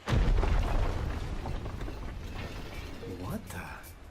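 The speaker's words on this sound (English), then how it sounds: "Is that an explosion?" An explosion in the video game Ni No Kuni II: a deep boom opens the moment, then a rumbling, mechanical-sounding aftermath that fades, with a short tonal game effect near the end.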